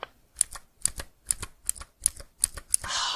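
Keys clack on a full-travel clicky mechanical keyboard in a steady series of about seven crisp, sharp strokes at an even pace, close and prominent with no talking, ending in a brief rushing swell.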